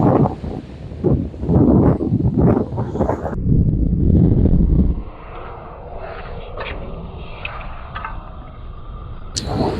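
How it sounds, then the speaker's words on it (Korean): Strong coastal wind buffets the microphone at a seaside surf-casting fishing spot in Uljin, with loud, gusty low rumbling for the first few seconds, then a calmer, lighter rush of air. "와 이 바람"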